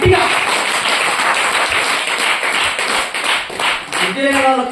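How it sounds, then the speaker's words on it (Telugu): A church congregation claps hard and fast at a Telugu Christian gathering, a dense, loud, continuous patter of many hands, with a voice and some musical tones coming in near the end. "కొట్టి చప్పట్లు గట్టిగా."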